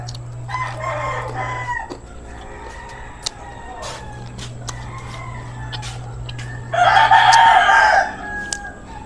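Chickens from a nearby poultry farm cluck while a rooster crows several times, the last crow loudest, with a low hum in the background.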